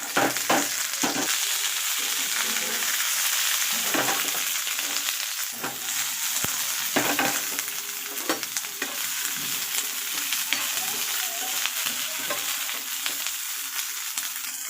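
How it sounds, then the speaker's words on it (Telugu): Washed, cut ivy gourd (tindora) fries in hot oil, a loud continuous sizzle with repeated scraping and stirring knocks from a spatula against the pan, close up and with no voices. "కడిగి కట్ చేసి పెట్టుకున్న దొండకాయల్ని ఈ ఆయిల్లో ఫ్రై చేసుకోవాలి"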